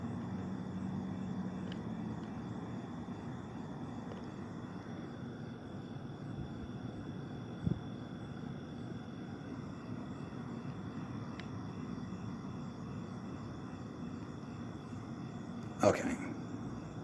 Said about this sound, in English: There's another airplane, but it's just way up there.